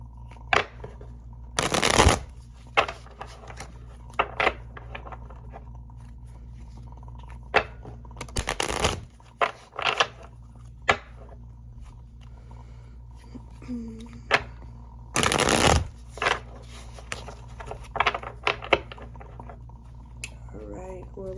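A deck of Hidden Truth Oracle cards is shuffled close by in three loud, riffling bursts spread across the stretch. Quieter handling of the cards fills the gaps, and a person speaks softly under it.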